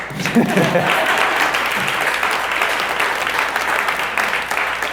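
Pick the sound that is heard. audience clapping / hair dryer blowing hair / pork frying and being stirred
audience clapping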